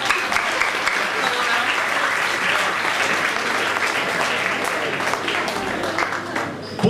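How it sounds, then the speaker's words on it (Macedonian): An audience at a poetry reading in a club-restaurant claps for a poet: dense, sustained applause from a roomful of people that holds steady for several seconds before tapering slightly at the end. "Аплауз за Трајанка"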